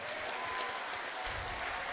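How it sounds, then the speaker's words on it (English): An audience at a live boxing event applauding both boxers after a four-round contest: a steady, distant patter of clapping with a little crowd murmur behind it. "please give both boxers a round of applause"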